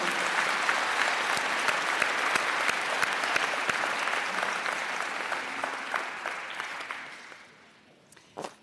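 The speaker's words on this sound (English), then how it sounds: "now we can applaud all of them" Broad, steady applause from a large crowd at a college commencement ceremony, sustained for about seven seconds before fading out, with a few isolated claps at the end.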